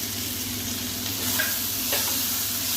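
Four whole green chillies drop into a hot pan of snail curry with potato, brinjal and tomato, bringing a close, steady sizzle with brief stirring scrapes partway through.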